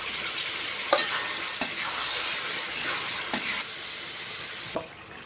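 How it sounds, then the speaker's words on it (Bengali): Chicken added to fried spice paste sizzles loudly and continuously in a pan, a close, hissing fry broken by several distinct scraping stirs of a spatula. "মশলা কষানো হয়ে গেছে ধুয়ে রাখা চিকেন দিয়ে দেবো"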